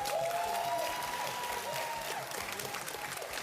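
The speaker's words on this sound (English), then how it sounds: "Can we get a big round of applause again?" Sustained applause from a crowd, dense clapping throughout with a faint tonal sweep and some voices mixed in.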